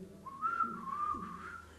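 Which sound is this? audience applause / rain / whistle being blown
whistle being blown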